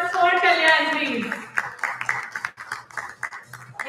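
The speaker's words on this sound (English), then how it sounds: "Can we have a big round of applause for Kalyan, please?" An audience at a TiECon Delhi business event breaks into clapping right after a brief amplified voice, a dense patter of many hands continuing steadily at moderate distance.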